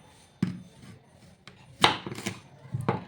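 A knife chops medium-sized potatoes on a board for a rassa batata bhaji curry, with a few sharp, close cutting knocks at irregular intervals and a quiet gap between them.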